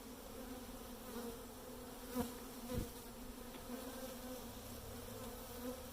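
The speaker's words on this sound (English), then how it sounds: "You can see the bees are all clustered together around the central frames." Honey bees buzz in an open beehive, a faint steady drone with a few louder passes as individual bees fly close by.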